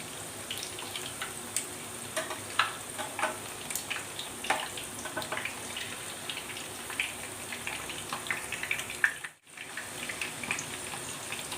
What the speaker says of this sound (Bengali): 4-5 মিনিট মিডিয়াম ফ্লেমে দু সাইডটা ফ্রাই হবে, একটু লাল লাল করে ফ্রাই হবে।